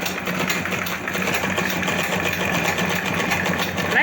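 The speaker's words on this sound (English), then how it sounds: "So I'm going to sew on straight stitch." A sewing machine fitted with twin needles runs a straight stitch, a steady, fast mechanical rattle that stays even from start to finish, close and fairly loud with no voices.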